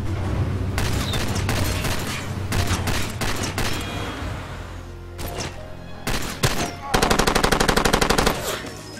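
Gunfire in the video game Far Cry 2: loud bursts of automatic fire and single heavy shots break out in clusters with brief gaps, ending in a rapid rattling machine-gun burst, all close up.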